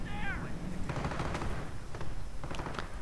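Half-track gunfire in a World War II real-time strategy game, sharp bursts of shots and rattling volleys against a busy battle din, while a commentator talks throughout.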